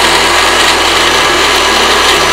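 A blender grinding poppy seeds, cashews, and fresh and dried chilies into a paste, a loud close whirring motor with a high grinding buzz that shifts pitch midway and cuts off at the end.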